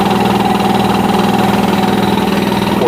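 An air compressor running steadily inside a garage, a loud, close, continuous engine-like drone with a regular pulsing throb and no pauses, no voices.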